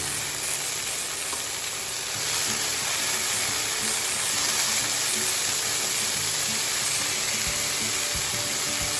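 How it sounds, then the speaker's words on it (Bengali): Amaranth greens (note shak) frying in a pan, producing a steady, loud, dense sizzle that continues throughout without pause. "ভাজা ভাজা হয়ে গেছে শাকটা।"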